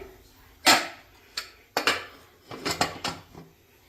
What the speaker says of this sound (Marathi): त्याचे झाकण ठेवून देते